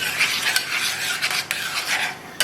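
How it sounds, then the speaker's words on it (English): A spoon scrapes and swirls steadily through peach pie filling as butter melts into it, with a continuous close rasping stir and occasional light clicks against the pan. "So let me stir that in. We're just going to stir this in as it melts."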